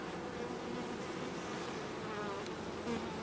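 Honey bees buzzing at an open home beehive with brood frames, a dense continuous hum of many bees close by, steady and fairly quiet, with no talk.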